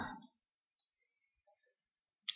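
Computer mouse clicks made while selecting a cut in editing software, a few sharp, quiet clicks spaced apart with silence between them, after a short burst of low sound at the start.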